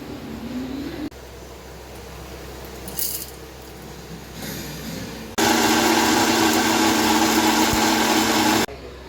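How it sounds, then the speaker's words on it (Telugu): Mixer grinder whirring through soaked, washed millets for dosa batter: a loud, steady motor roar kicks in partway through, holds for about three seconds, then cuts off abruptly. "ఇప్పుడు మిక్సీకి రుబ్బుకోవాలి"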